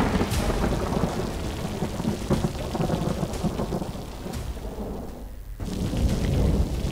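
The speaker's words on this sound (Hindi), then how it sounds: "भारी बारिश से शहर तरबतर है।" Heavy rain pours continuously across a city during monsoon flooding, a dense roar with rumbling thunder running throughout and a brief dip near the end before the downpour surges back, with no voices.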